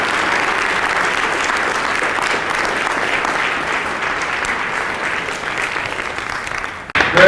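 A conference audience stands and gives a keynote speaker a sustained round of applause, dense even clapping that carries at full level before cutting off abruptly near the end.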